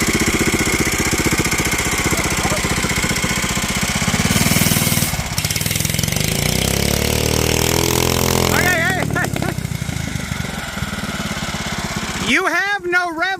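Bolens Husky 800 garden tractor engine, with no rev limiter, revving hard in gear with a loud continuous rattling drone that shifts in pitch, while people talk over it.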